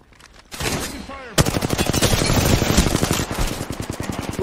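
Automatic weapon fire in an Apex Legends firefight with an enemy, a quiet voice first, then a loud, steady stream of rapid shots that runs to the end.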